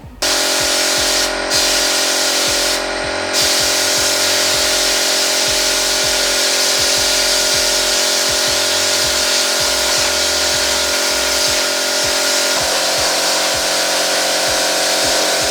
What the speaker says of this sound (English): just finished spraying primer now on the engine bay